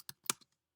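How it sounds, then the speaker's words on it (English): A password is typed on a computer keyboard: four or five quick, crisp keystrokes within under a second, close and alone, followed by silence. "type in seed, the password"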